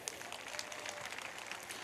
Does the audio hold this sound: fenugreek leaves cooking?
no